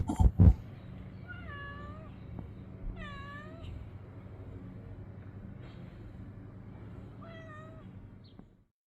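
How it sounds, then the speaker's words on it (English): A cat on a UK allotment in April gives a series of distinct, drawn-out meows spaced a second or two apart, close and clear over a low rumbling background hum. "We are joined on the April allotment tour by the cat, or one of the cats. He has a lot to say for himself today."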